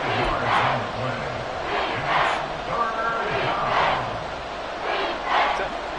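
Stadium crowd in a Madden football video game roaring and cheering ahead of a big third down, a loud continuous wash of voices that swells in waves throughout.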